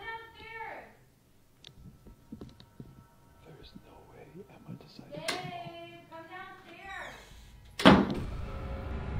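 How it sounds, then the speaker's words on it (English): Doors slam inside a home while a woman calls out, with voices and faint rustling building up to one sharp, loud bang near the end, followed by lingering noise. "doors mysteriously slam."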